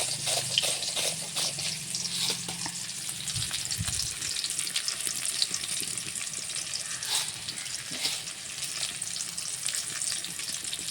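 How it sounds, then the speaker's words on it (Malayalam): Mustard seeds and a few dried red chillies spluttering in hot oil, a steady dense crackle and sizzle with sharp pops, close and continuous throughout, no talking. "കടുകൊന്ന് പൊട്ടട്ടെ."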